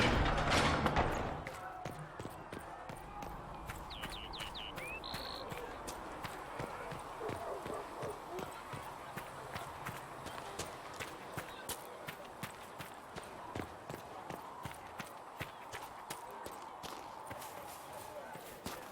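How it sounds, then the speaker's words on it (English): Horse hooves clip-clop steadily in the video game Dragon Age: Inquisition, a continuous rhythmic patter of hoofbeats at moderate distance under background ambience, with brief talk at the start. "a good horse can make all the difference"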